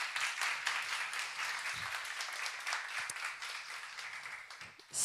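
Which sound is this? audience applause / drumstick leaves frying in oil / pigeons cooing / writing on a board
audience applause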